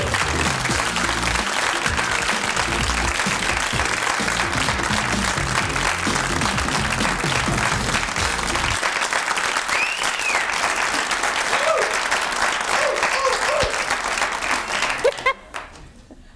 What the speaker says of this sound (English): Thank you for that fine applause